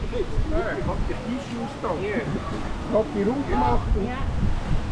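Strong wind and ocean waves roll onto the shore at Station 3 in a Philippine province during stormy weather, with constant gusting roar and surf; someone talks over it.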